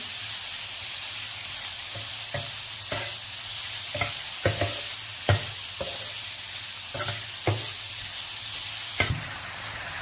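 Chicken pieces frying in a pan, a steady close sizzle and hiss with scattered sharp taps and scrapes as the pieces are stirred and turned.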